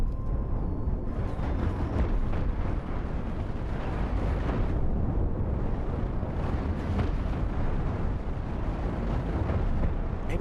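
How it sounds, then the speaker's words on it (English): Chain guns firing during a spaceship battle in the Cosmoteer video game: a dense, continuous roar of rapid impacts and explosions, steady and loud throughout without pause. "He's got chain guns going at them."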